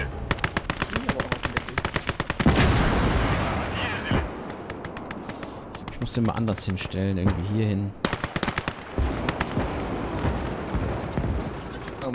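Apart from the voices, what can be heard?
gunfire in the video game Gates of Hell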